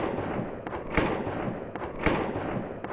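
An airsoft submachine gun fired on full auto, thin and muffled snapping shots in short bursts over steady background noise, fairly quiet and alone.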